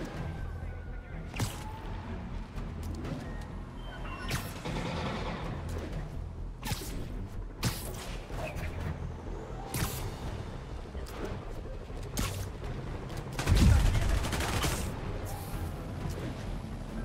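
Enemy gunfire in the video game Marvel's Spider-Man Remastered: scattered sharp cracks and whooshes over a steady game soundscape, with a louder burst near the end, under background clamor.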